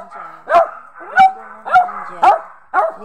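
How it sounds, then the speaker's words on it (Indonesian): A dog that has just woken up gives five loud, close, playful barks at a fairly steady pace of about two per second, with faint whines between them. "Gonggongan manja."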